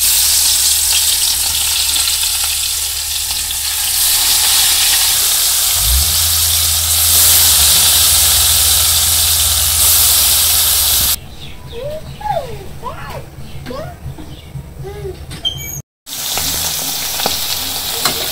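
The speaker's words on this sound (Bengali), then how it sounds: "মাছ ভাজা হয়ে গেছে, নামিয়ে নেই।" Fish frying in hot oil in a village kitchen sizzles loudly and continuously. Partway through, the sizzle softens and faint bird chirps come through, and a brief dropout near the end cuts the sound for a moment.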